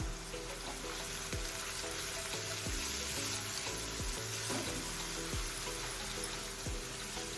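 Sliced onions with a little salt frying in a pan until golden, for a cauliflower dish: a soft, steady hiss of hot oil, fairly faint and close, with regular light knocks from the ladle throughout and no talking.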